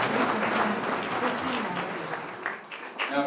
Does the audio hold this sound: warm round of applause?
yes